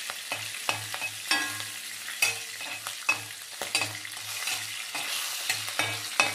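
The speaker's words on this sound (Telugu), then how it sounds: "పచ్చిమిరపకాయలు వేయిస్తున్నానండి" Green chillies sizzle in hot oil in a pan while a spatula stirs them in quick repeated scraping strokes, each stroke distinct over the continuous frying hiss.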